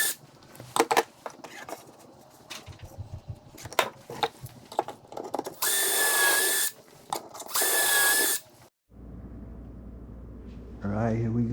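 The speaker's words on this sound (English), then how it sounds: "So we got the pocket holes drilled." Power drill boring pocket holes in wood for an underbed storage drawer, two loud sustained whirring bursts close by, amid clattering handling noises and someone talking.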